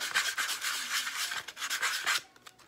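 Sandpaper rubs a flat spot on a piece of wood for a nativity scene craft, producing steady, close, raspy back-and-forth strokes in a continuous rhythm that stop near the end, with no talking.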